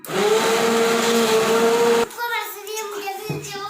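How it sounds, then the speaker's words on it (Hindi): A kitchen grinder whirs loudly and steadily as it blends chicken haleem, then cuts off abruptly after about two seconds, leaving a softer rattle and background noise. "अब हम इसको ग्राइंडर से ग्राइंड कर लेंगे ताकि ये यकजान हो जाए"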